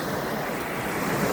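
Ocean waves washing onto a beach, a steady close hiss of surf mixed with wind buffeting the microphone, continuous and fairly quiet over the brief stretch.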